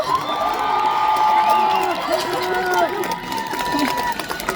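An outdoor crowd at a rainy dance festival in Cheonan cheers and shouts throughout, a dense, steady roar of many voices with whoops rising above it, fairly loud and close.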